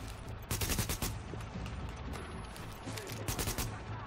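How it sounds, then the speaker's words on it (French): A boss sniper fires rifle shots at the player in The Division during a fight in the Lincoln Tunnel, sharp loud cracks in clustered bursts over a steady background din of combat, with no voices over them. "mais le sniper me tire dessus"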